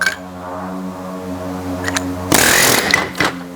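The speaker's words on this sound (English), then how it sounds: "I'm just gonna take an air hammer, go behind it" A steady mechanical drone suddenly gives way to a loud, rapid burst of pneumatic air hammering on a wheel bearing of a high-mileage Chevy Avalanche, then a brief pause and a short second burst.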